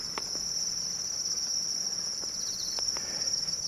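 Farmed crickets chirp in a constant high, shrill trill, with a few sharp clicks over faint background noise and no one speaking.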